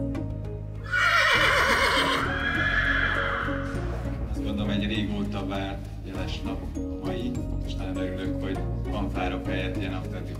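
A Muraköz horse gives a loud, close whinny lasting about two seconds, followed by steady background noise and someone talking over the rest.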